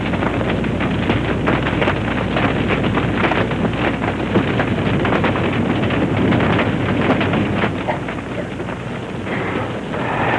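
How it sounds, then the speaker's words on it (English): Strong wind roars loud and steady throughout an audio drama scene, a dense rushing gust with no pauses and no talk. "The wind's getting stronger."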